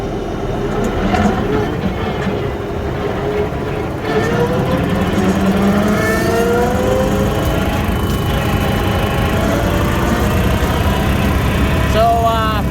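A tractor runs with its PTO engaged, a loud steady mechanical drone with rising and falling whine tones layered over the engine rumble, continuous and close.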